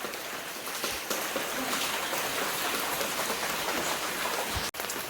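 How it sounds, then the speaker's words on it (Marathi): Heavy monsoon rain pours down steadily in a village, a dense continuous roar of drops hitting surfaces, loud and unbroken except for a brief dip near the end. "वरती जाऊन सुद्धा तुम्हाला दाखवतो की पाऊस किती पडतो आहे"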